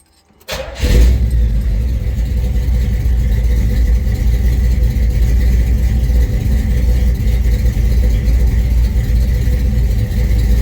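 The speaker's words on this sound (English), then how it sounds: "Listen to what a finely tuned small block sounds like." A finely tuned small-block V8 in a 1971 Chevrolet C20 pickup fires up and settles into a loud, steady, rumbling idle, close by, with no talking over it.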